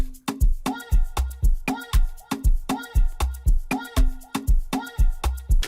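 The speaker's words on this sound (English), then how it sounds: "So that's with the shaker and the drums." An Amapiano beat with kick drums, percussion and a shaker, plus chopped vocal samples, runs in a steady, loud repeating groove with sharp, regular hits and no talking.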